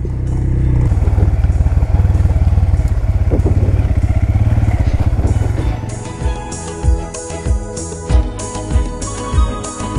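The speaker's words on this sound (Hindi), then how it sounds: "बाइकर हज़रात गुजर रहे हैं" Motorcycles pass on a mountain road in the Gilgit-Baltistan valleys, a loud engine roar close by for several seconds that fades away, followed by clattering, thumping bumps nearby.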